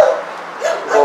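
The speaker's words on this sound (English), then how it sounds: "Shut the fuck up, you dogs." Dogs bark and yip in short bursts on an evening walk outdoors, fairly close and loud, with a spoken voice mixed in.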